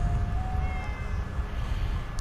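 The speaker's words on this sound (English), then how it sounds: "Oh, little pussycat. Hey, little cat." A cat in the video game Fallout 4 meows softly in a thin, drawn-out tone over a steady low ambient rumble, followed by a couple of faint short clicks.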